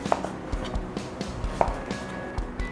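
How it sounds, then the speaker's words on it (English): Knife slicing squash into rounds on a cutting board, a quiet close series of irregular chopping taps and thuds with no talking. "I'm gonna cut these into rounds"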